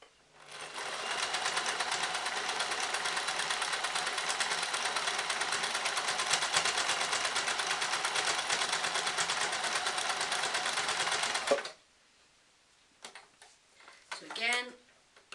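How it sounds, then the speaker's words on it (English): A sewing machine stitches rapidly and steadily for about eleven seconds while mending trousers, then stops, followed by quiet handling noises and a brief voice. "I've changed the setting on my sewing machine to make sure that it's set in 6"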